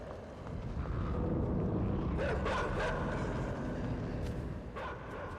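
Dogs bark in the dark side-scrolling game INSIDE, with a few sharp yelps standing out over a dense, rumbling game soundscape.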